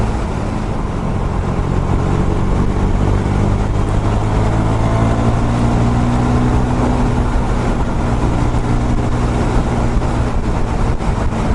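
A KTM 390 Super Duke single-cylinder motorcycle pulls out to overtake. A loud, steady engine drone with rising harmonic pitch runs under constant wind rush and never lets up.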